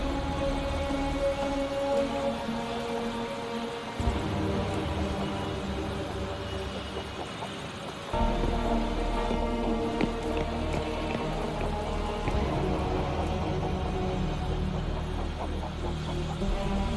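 Steady rain in the Wuthering Waves video game, a dense continuous patter of drops heard under layered music and a low hum, with a sudden shift in intensity partway through.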